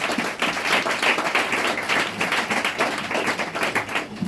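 A church congregation claps and applauds steadily for several seconds, a dense, fairly loud wash of hand claps filling the room.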